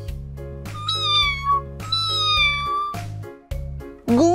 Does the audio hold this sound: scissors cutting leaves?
no